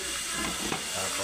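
Boneless milkfish (bangus) frying in a pan, giving a steady, loud, close hissing sizzle that fills the whole moment without pause or talk.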